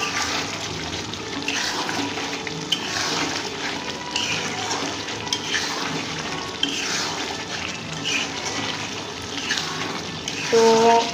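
Chicken with meat masala stirred in a pan, a steady wet sizzling and scraping that runs evenly throughout with faint clinks, continuous and close, no talking.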